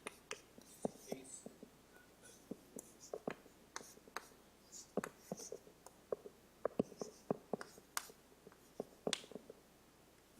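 Chalk or marker writing on a board, heard as faint, irregular taps and scratchy strokes in quiet room tone, with occasional soft murmuring.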